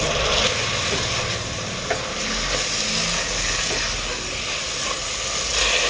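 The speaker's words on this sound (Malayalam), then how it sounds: "2 മീഡിയം സൈസ് തക്കാളി ചെറുതായിട്ട് കട്ട് ചെയ്ത് ചേർത്ത് കൊടുക്കുക" Chopped tomatoes stirred into hot frying onions for porotta, a steady sizzle and hiss with soft stirring scrapes running continuously and fairly close, with no talking.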